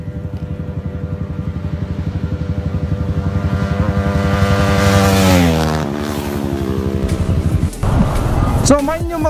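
A Raider 150cc motorcycle engine revs hard and close, its pitch climbing steadily to a peak and then dropping back to a rougher idle, with a brief cut and sputter near the end.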